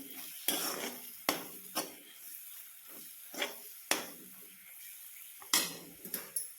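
Homemade masala is stirred and sautéed in a pan while cooking a cowpea vegetable dish. A spoon scrapes and clinks against the pan in sharp, irregular knocks over a faint sizzle, close and quiet, with no talk.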